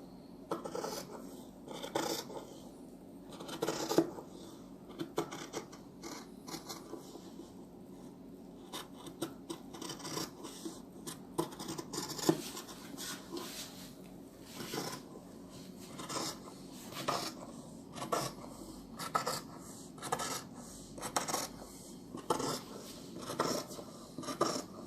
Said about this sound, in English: Now we're cutting down the front.